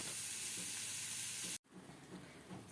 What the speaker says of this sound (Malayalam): സോട്ട് ചെയ്തങ്ങ് അതിൻ്റെ കൂടെ അങ്ങ് ഇട്ട് ഇളക്കിയെടുക്കാം